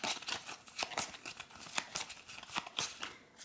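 Arkham Horror game cards riffle and slap together in quick, crisp bursts, a close, light shuffling with short pauses between flurries.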